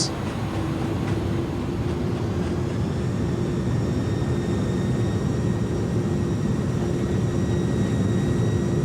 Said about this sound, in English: We're down. Reversers out.